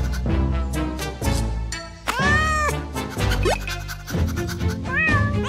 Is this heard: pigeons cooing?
no